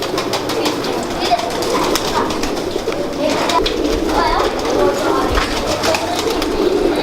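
Pigeons kept by a Pakistani fancier, one of them a bird brought over from Dubai, coo and rustle in a close, busy loft while people chat nearby.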